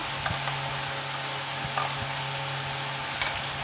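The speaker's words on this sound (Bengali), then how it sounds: "এটা দিয়ে আরেকটু সুন্দর করে আমি কষিয়ে নেবো" Potato and ridge gourd stir-frying with a paste of ground poppy seeds, green chilli and melon seeds, giving a steady close sizzle with a few faint scraping stirs across the whole stretch.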